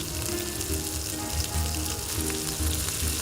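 Green chillies and onion pieces fry in sesame oil in a pan, a steady, dense sizzle and crackle filling the few seconds without any talk.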